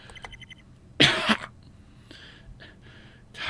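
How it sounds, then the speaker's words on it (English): A girl in the Corpse Party video game gives one loud, harsh cough burst, followed by fainter gasps and breaths in a quiet setting. "Suddenly she started coughing out her lungs"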